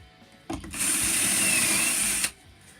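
A power drill spins up and bores a pocket hole in wood with a Kreg jig steadily for about a second and a half, then stops; quiet before and after.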